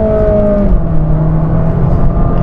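Ferrari 458 Spider's naturally aspirated 4.5-litre engine revving loudly and close, a sustained roaring tone that shifts pitch partway through, with no talking.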